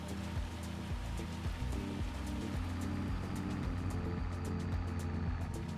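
Hail rattling down during baling with a Fiat Agri tractor in a field, a dense, steady patter of hard little hits over the tractor's low running drone, constant throughout with no voices.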